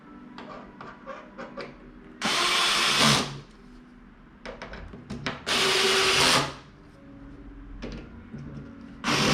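A power drill drives screws into a wooden ladder bookshelf in several sharp, loud whirring bursts of about a second each, separated by quieter clicks and handling noises.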